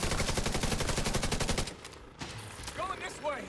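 Rapid automatic gunfire from a video game, aimed at a mini tank. It rattles in an even, fast burst for about a second and a half, then stops. Quieter game sounds and a voice follow.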